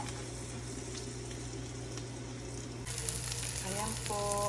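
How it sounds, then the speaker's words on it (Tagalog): Garlic fried rice with hot dog cooking in a pan, a steady loud sizzle and frying hiss under faint background noise. "Tapos magsasangag ako."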